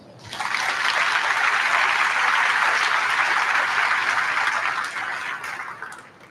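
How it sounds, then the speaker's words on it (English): Applause from an audience at a high school National Honor Society induction ceremony, a dense steady wash of clapping that swells quickly, holds for about five seconds and then thins out. "Let's get into round of applause"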